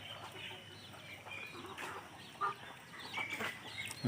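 Free-range chickens cluck softly at a moderate distance outdoors, with scattered short calls and a louder squawk against quiet background noise.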